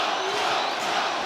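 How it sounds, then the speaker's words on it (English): Rugby league crowd of Knights fans roaring steadily throughout, a dense wash of cheering and chanting from a large stadium audience with no distinct break. "And listen to this crowd, Mark."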